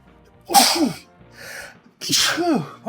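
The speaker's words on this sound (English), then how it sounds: "Oh no, I'm sneezing." Two sharp, close sneezes from a person, each a loud breathy burst with voiced rising-falling tones, separated by a quieter inhaled breath.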